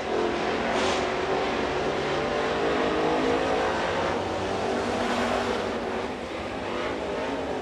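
A super late model race car on a qualifying lap at North Georgia Speedway, its engine roaring loud and continuous as it runs the track, with a slight rise and fall in pitch.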